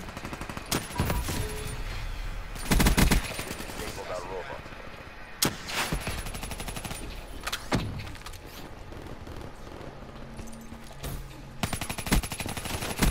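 Gunfire in the Black Ops 3 multiplayer video game comes in bursts of rapid shots among other game effects, with a voice talking over the action.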